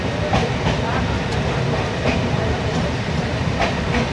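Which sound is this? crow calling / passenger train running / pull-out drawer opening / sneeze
passenger train running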